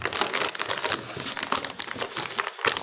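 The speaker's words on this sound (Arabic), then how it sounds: "اوراق وشغلات حطنا اياها على جنب" Paper packing being crumpled and crinkled close up while a Galax 3060 Ti graphics card is unboxed, with dense irregular crackles and rustles throughout and no speech.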